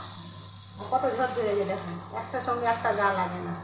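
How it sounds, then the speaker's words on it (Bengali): Okra and onion frying in a pan give a steady close sizzle that runs underneath a person talking throughout. "হাতে সময় নিয়ে ভিন্ডিটা ফ্রাই করতে হবে"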